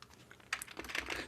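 Keys on a computer keyboard clatter in a quick, uneven burst of light clicks that starts faintly and grows busier toward the end, close by and fairly quiet.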